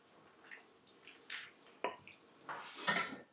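A spoon stirs chicken gizzard escabeche with vinegar in an Instant Pot, making faint wet squishes and a few light metallic clinks against the pot in short, irregular bursts, with no voices.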